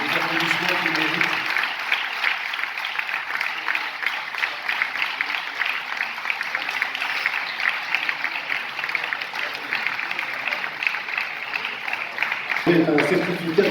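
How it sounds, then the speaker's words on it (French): Event audience at a closing ceremony applauds honorees gathering for a photo, continuous clapping at moderate level, with a voice briefly heard at the start and again as the applause ends. "les applaudissements qu'ils méritent"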